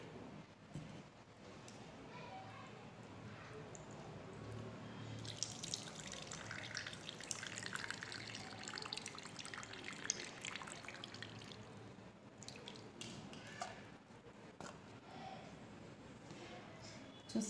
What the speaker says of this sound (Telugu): ఇదైతే మనం ఇప్పుడు ఈ వాటర్ని అంతా సపరేట్ చేసేసుకుందామండి.